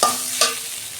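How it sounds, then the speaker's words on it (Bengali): Onions salted and fried until reddish in a pan for a gizzard-and-liver curry, with a spatula scraping through them twice against a steady close sizzle, no voices. "পেঁয়াজটা ভাজা হয়ে গেছে লাল লাল করে"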